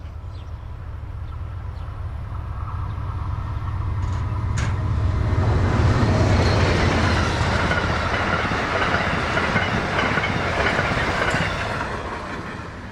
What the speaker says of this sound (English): Amtrak 43, the westbound Pennsylvanian, passes first.